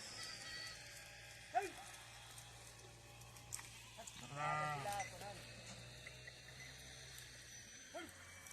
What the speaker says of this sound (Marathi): मेंढ्या